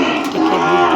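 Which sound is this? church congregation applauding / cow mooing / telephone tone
cow mooing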